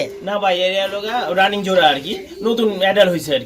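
Pigeons cooing at a pigeon farm in Old Dhaka, soft repeated throaty coos close by, mixed with someone talking over them.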